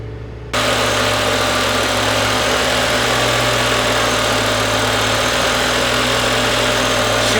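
A V10 BMW M5 idles steadily and loudly up close in a garage, a smooth continuous engine drone with a faint low pulse and no voices.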